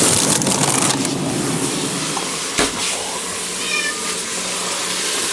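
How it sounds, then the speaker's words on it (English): Cats meow indoors in a kitchen while food cooks, with a clear meow close by over a steady background hiss and clatter. "Cats are in because it's cold."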